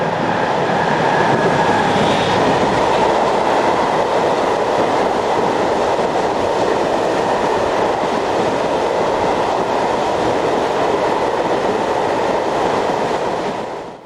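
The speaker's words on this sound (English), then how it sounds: "an MAK diesel hydraulic of Class G1206BB heads the southbound set of empties" An MaK Class G1206BB diesel-hydraulic locomotive hauls a southbound rake of empty coal wagons in the Ruhr region, a loud, steady rumble and wheel roar that holds for the whole pass before easing at the very end.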